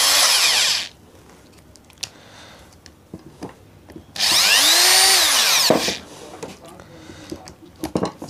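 A handheld power tool tightens a fitting on a reverse osmosis diaphragm booster pump, whirring loudly in two short bursts separated by quiet handling clicks and scrapes, close up.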